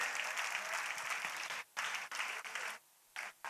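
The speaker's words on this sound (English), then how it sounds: "Can you give a big round of applause to our wonderful children?" Audience at a school annual day clapping for the children, a dense burst of applause that breaks off and resumes in short patches before fading out.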